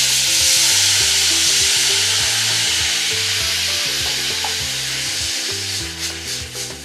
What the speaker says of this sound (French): On déglace avec du vin blanc.